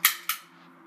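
A toy cap gun fires twice in quick succession, two sharp, bright cracks a quarter second apart, each trailing off quickly into a faint hum.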